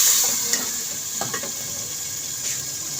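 Potatoes fry in a pan for curry, a soft, steady sizzle with occasional faint stirring clatter, near and even in level with no voices.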